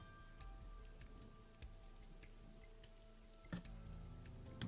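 Pouring rain in the video game Ai: The Somnium Files, a steady, soft patter with faint ticking drops and a low background hum, quiet and continuous with no voices.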